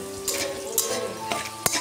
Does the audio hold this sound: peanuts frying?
yes